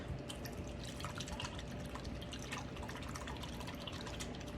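Fingers stir a raspberry mint scalp scrub in water, giving soft wet drips and bubbling trickles, close and quiet, with no talk.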